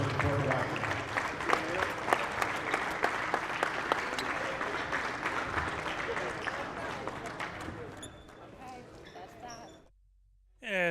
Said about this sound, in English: let's give everybody, parents and players, a round of applause and good luck tonight, guys.